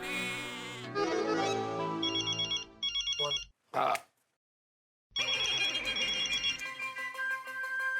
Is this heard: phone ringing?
yes